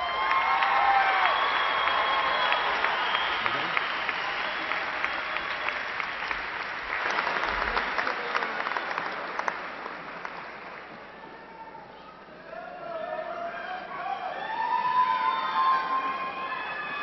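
An audience at a university fall commencement applauds new graduates, dense steady clapping that gradually thins and fades, followed by quieter wavering tones near the end.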